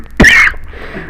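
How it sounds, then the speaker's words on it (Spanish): A single sharp cough from a man, close and loud, followed by a brief quiet trail of room tone. "Me disculpan un poco la tos"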